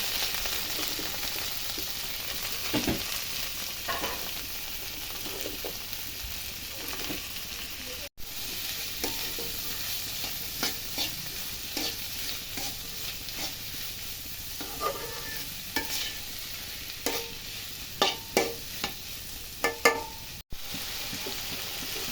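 Vegetables sizzle in a hot pan with garlic paste and ginger paste, frying steadily while a utensil scrapes and stirs in irregular clacks and taps, close and moderately loud with no talk.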